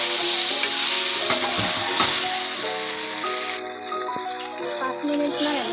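Chopped tomatoes sizzle and fry in a hot pan for a pasta sauce, a steady close crackle with occasional stirring clatter, continuous throughout.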